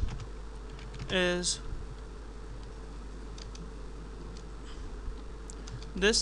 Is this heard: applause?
no